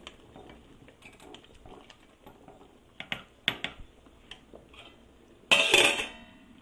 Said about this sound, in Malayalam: എന്നിട്ട് ഒന്ന് ഇളക്കി അടച്ചു വയ്ക്കാം.